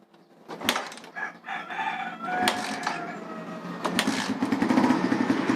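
A Suzuki Satria/Raider FI 150 motorcycle with its starter engaged, a short whirring crank that catches into a rising, steady engine idle, close, with a rooster crowing nearby at the start.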